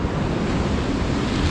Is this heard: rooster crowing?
no